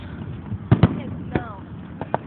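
Fireworks bursting over San Diego at night, with two close sharp booms, a third a moment later and two fainter pops near the end, over a steady crowd murmur and voices chatting nearby.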